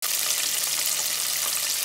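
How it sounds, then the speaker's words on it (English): Chicken pieces frying in hot oil for chicken and waffles, a steady, dense crackling sizzle that holds even and fairly close throughout, with no voices. "once your second batch is done frying up"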